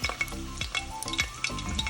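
Boiled eggs fry in a pan of oil for a potato and egg curry, giving a close, crackling sizzle with bursts of spattering and a few stirring scrapes.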